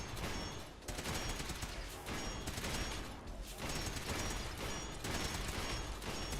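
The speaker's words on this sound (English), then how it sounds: "That is Ada shooting something." Ada, the robot companion in the Fallout 4 video game, firing her weapon: repeated rapid bursts of automatic gunfire in dense waves, slightly distant and continuous, with brief lulls between volleys.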